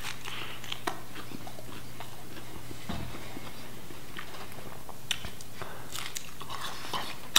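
Bites and chewing on thin crust pepperoni pizza topped with ground turkey and bacon bits, with soft crunchy mouth sounds repeating irregularly up close over a steady low hum.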